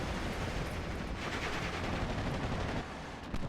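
Tanks trade gunfire in the World War II strategy game Steel Division: Normandy 44, heard as a dense, continuous rumble of shots and explosions, loud and steady with a brief dip near the end and no voice over it.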